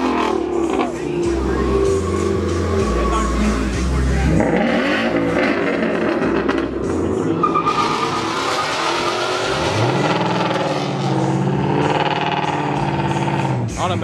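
A car engine revs hard at a night car meet, with a loud rising roar and tires squealing. Music and excited voices from the crowd carry over it throughout.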